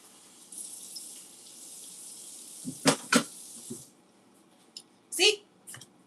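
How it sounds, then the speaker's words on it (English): Tap water runs steadily into a kitchen sink for several seconds while something is rinsed, then stops, followed by a few clanks and brief splashes nearby. "one more rinse and then the water's clear"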